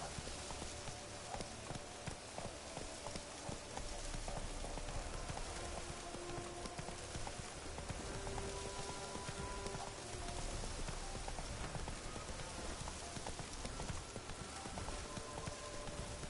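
Steady rhythmic clip-clop of a horse's hooves galloping on and on in the video game The Witcher 3: Wild Hunt, continuous and fairly even, under a dense noisy backdrop.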